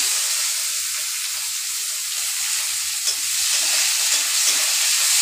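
Ginger, garlic and chopped onion frying in hot oil, giving a steady, close sizzling hiss with faint stirring scrapes beneath, no voices present.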